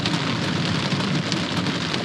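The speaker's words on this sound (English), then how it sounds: "it is starting to rain so hard. It's like right on top of us." Heavy rain pounds a camper roof during a hailstorm in the Black Hills, a dense, loud, steady roar of drumming drops with no letup across the whole stretch.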